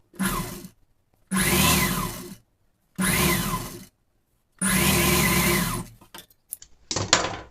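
A sewing machine stitches folded cloth for a pinafore in four loud close bursts of whirring needle motion separated by pauses, ending with a few clicks and a short final run.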